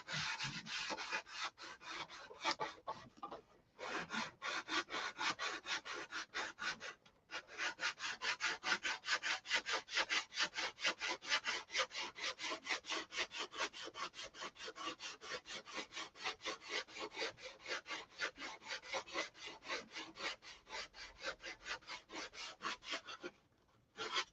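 Fine 180-grit sandpaper rubs by hand over the wooden turtle deck of a Sig Magnum, making fast, even back-and-forth rasping strokes that run steadily for the whole stretch with only a couple of brief pauses.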